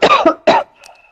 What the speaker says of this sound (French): Je me racler la gorge avant, alors.